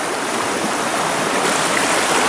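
Fast water of a mountain trout stream rushes steadily and loud, a dense continuous wash with no voices over it.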